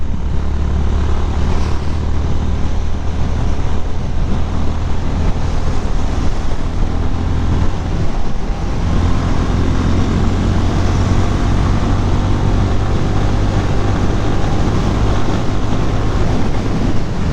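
A Honda CB350 H'Ness motorcycle accelerating on a highway, a loud continuous engine drone overlaid with heavy wind roar, sustained throughout with a brief dip near the middle.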